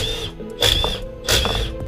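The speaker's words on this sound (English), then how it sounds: "Got my Milwaukee. I'm just gonna zip these off, whack it with a hammer a few times," A Milwaukee power tool zips bolts off a Nissan S14 differential, two loud whirring bursts over a steady mechanical hum.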